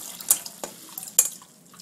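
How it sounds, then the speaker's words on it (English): Water is tipped from a bowl into a strainer in a kitchen sink after peeling pomegranate seeds, giving a few quick splashes and trickles, soft and close, with no talk. "we're going to come over to the sink, and we're going to dump the water into our strainer"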